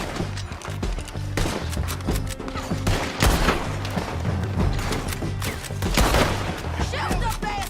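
Dense gunfight in Red Dead Redemption 2: rapid, overlapping gunshots crack and thud continuously at close range amid a busy mix of impacts and game sound, with voices shouting underneath.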